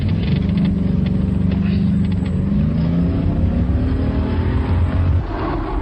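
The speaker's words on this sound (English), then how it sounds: "Start your engine." A car engine revs loudly and continuously as the car pulls away in a tense radio drama getaway, the pitch climbing gradually as it accelerates before easing slightly at the end.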